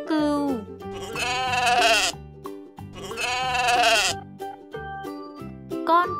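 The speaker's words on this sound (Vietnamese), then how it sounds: "Con cừu." A sheep bleats twice in long, wavering, nasal cries, clear and close, set against a light repeating musical backing.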